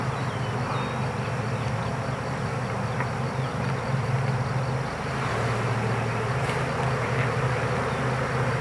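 Honey bees buzz around an open hive in a continuous, dense drone that stays close and steady throughout, with no talking.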